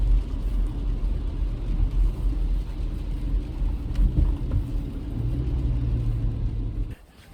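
Interior of a car on the road, a steady low engine and road rumble filling the whole stretch, with a slight lift near the end before the noise drops away.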